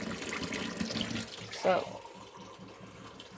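Hot water poured into a pan for cheesecake makes a brief splashing pour in a kitchen, heard faintly under light talk.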